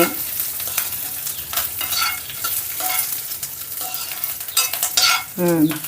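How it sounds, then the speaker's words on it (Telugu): Ginger and spices frying in a pan for a hotel-style tomato chutney, a close continuous sizzle with scraping stirs and clinks of a spoon, and a brief voice near the end. "వీటన్నిటిని ఒక థర్టీ సెకండ్స్ వేయించుకొని"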